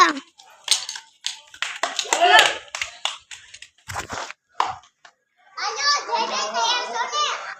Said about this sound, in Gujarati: જય ભાઈ માટે તાળીઓ વગાડો.